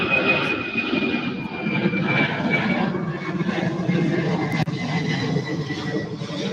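A UPS aircraft passes steadily at Louisville airport, its engines forming a continuous broad roar at moderate distance, with a voice faintly audible beneath.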